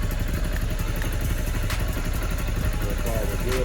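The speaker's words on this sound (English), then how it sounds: "Got the bike started, now we're just checking for leaks." Honda CBR 250R motorcycle engine idling after an oil change, a steady close throbbing rumble with faint clatter and a brief higher squeal near the end.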